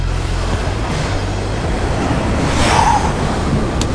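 Sea waves break on a shore during bass fishing, a continuous loud wash of surf with wind rumble and a swell of spray building midway, no voices.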